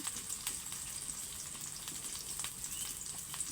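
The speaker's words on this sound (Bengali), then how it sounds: "তেল ঢেলে দিলাম দিয়ে এই দেখো একটু লাড়াফাড়া করে পেস্টটা লাল লাল করে ভেজে নেওয়ার পরে" Spice paste fries in oil with a steady close sizzle and crackle, a few sharper pops and light stirring scrapes over a continuous hiss, with no talk.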